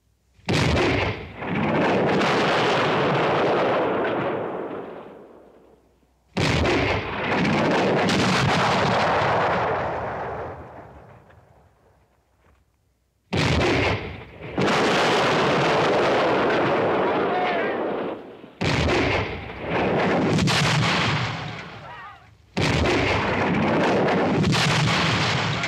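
Heavy cannon and artillery fire in a western battle scene, long roaring blasts that rumble and overlap in waves, loud and sustained with brief lulls between volleys.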